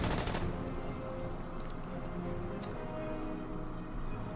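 Rapid burst of gunfire opens, followed by a few faint scattered shots over a low rumbling background, as a unit fires in the Order of Battle Panzerkrieg war strategy game, set at Stalingrad.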